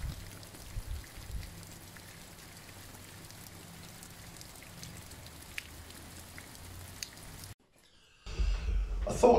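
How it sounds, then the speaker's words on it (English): Steady rain pours down continuously during a miserable spell of wet weather, a dense even hiss of drops on surfaces that stops abruptly near the end before louder close sounds return. "Just non-stop rain."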